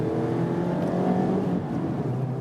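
A Mazda MX-5 Miata facelift convertible, top down, pulls uphill in second gear on a mountain road, its engine droning steadily and strongly throughout with a loud, even tone.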